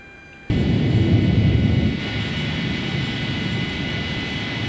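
Steady roar of Tupolev 154B jet engines idling in a flight simulator for a TAROM airliner parked at Chișinău after landing, starting abruptly then settling to a constant broadband hum, with no talking.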